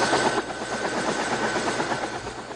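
A gunship aircraft engine roars steadily on a maintenance run in a free fire zone, with a dense, pulsing drone that fills the whole stretch, loud and close, with no talking.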